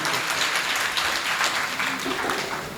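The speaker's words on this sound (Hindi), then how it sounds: "जोरदार तालियों का हमें सम्मान दो।" An audience at a Jain religious discourse during the Dashlakshan festival bursts into sustained, dense applause, loud and continuous for the whole stretch, with a voice faintly audible beneath it.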